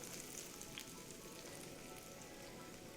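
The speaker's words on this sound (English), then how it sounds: "we're gonna take the batter and straight into Sizzletown" Batter dropped into a preheated pan with plenty of olive oil gives a steady, dense sizzle, an even hiss with a few faint crackles and no voices.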